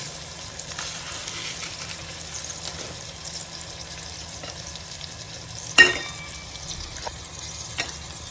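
Urad dal, mustard seeds and cumin sizzle in hot oil, a steady soft crackle with a sharp pop and spatter near the end, then quieter sizzling.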